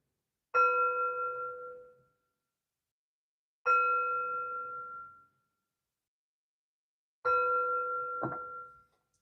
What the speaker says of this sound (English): And three chimes to bring in positive energy.